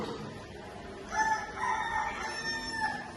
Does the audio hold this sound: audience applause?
no